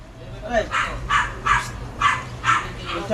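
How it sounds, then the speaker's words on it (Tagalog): A dog barks repeatedly and fairly close, about six evenly spaced barks in a steady rhythm, with faint talk and room noise beneath. "Aso naman eh!"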